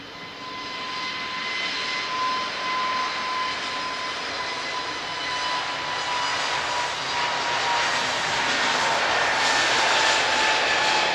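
An A321neo at Lisbon Airport gives a steady, fairly loud jet engine roar with a high whine, holding continuously throughout with no talking.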